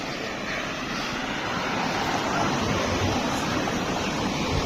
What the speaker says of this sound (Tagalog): lumaki na yung lakas ng tubig